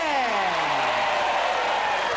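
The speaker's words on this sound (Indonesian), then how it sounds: "kita beri tepuk tangan sekali untuk keluarga dari Saleh" Studio audience applause for a family on a television game show, a steady dense wash of clapping, with a faint descending tone sweeping beneath it.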